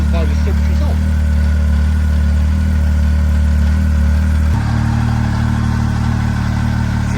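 A 2015 Arctic Cat ZR7000 SnoPro snowmobile idles after a cold start with a loud, steady engine drone close by. Its pitch and tone shift upward partway through, and voices talk over it.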